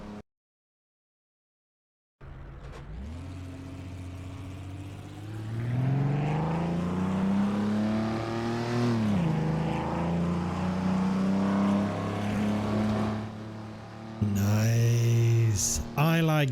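A 1956 Austin Healey 100-6 engine in the Assetto Corsa racing game starts after a short silence, idles and then revs up and down in smooth swells, ending with a louder, harder acceleration.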